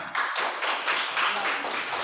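Students in a classroom give a brief round of dense clapping, steady and fairly close, with a voice faintly under it.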